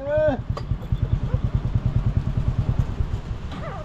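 A motorcycle engine idling close by with a steady, low, rapid putter, while a voice speaks over its start and end.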